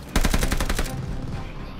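Rapid minigun fire in the Call of Duty Vanguard campaign, a fast, loud burst of evenly spaced shots lasting under a second, then tailing off into a low rumble.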